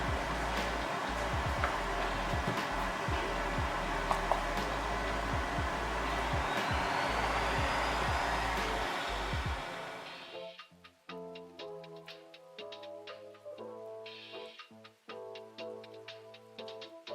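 Lab air extractors run with a steady, loud whooshing roar while foam is melted for a balloon build, then the noise drops away midway, leaving quieter tonal sounds.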